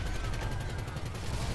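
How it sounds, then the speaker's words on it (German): Rapid, dense bursts of weapon fire and explosions as RPG rockets are fired repeatedly at a car in GTA V Online, a steady rumbling barrage with no pauses. "Mike ballert ja die ganze Zeit mit dem RPG drauf"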